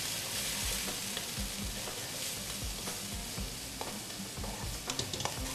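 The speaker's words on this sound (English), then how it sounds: "pop in all the mushrooms. Squeeze in the lime. And stir very, very quickly." Mushrooms, lime and red chili flakes stir-fry in a pan, with a steady loud sizzle and a busy scrape and clatter of quick stirring throughout, close up and with no talking.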